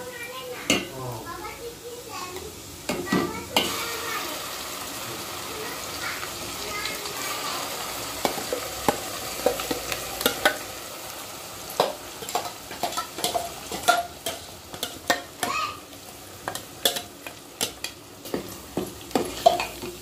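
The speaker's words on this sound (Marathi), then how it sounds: "हा मसाला आपण भाजून घेतलेला आहे पण तरी पण थोडासा तेलात परतून घ्यायचा आहे छानपैकी." Roasted ground masala frying in oil in a pan with onions, for a goat head rassa curry: a steady low sizzle with repeated scraping and stirring clicks from a spoon against the pot, close and fairly quiet.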